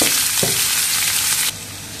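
Ash gourd and fenugreek seeds dropped into hot oil, a loud, dense sizzle of frying that holds steady for about a second and a half, then drops off quieter, with no talk.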